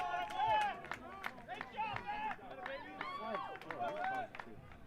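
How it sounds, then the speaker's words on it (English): Fans in a cheering section yelling and whooping at a college baseball game after an RBI single, excited crowd noise close by, with a commentator talking over it. "You can hear the Bethke cheering section over here going berserk."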